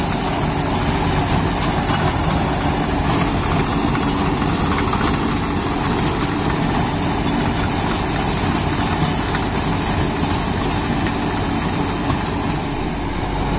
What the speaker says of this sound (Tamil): ஹெவியான வாழைக்கெல்லாம் டஸ்கர் ரொட்டாவேட்டரில் ஓட்டிகிட்டு இருக்கிறாங்க.